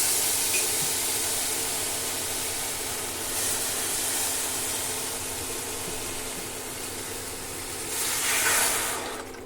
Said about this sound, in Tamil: அது நல்லா பாயில் ஆகி வரணும்.